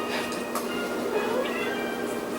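A cat meows nearby, a few short tonal calls over a steady background hum, with a person speaking softly at the same time.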